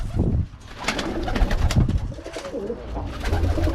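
Birmingham Roller pigeons coo in a loft, soft throaty rolling calls repeating close by over a busy background of rustling and other bird sounds.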